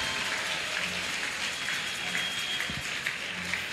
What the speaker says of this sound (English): church, clap your hands for the vice president